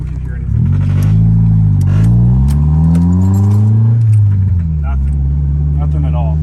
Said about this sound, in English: let's make a hard turn. Let's see if we can hear anything.